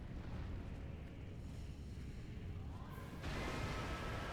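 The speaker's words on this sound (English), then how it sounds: "that certainly looks like an explosion" A deep rumbling blast during a Dark Souls 3 DLC boss fight, a sustained low roar that swells brighter and louder near the end with no voices.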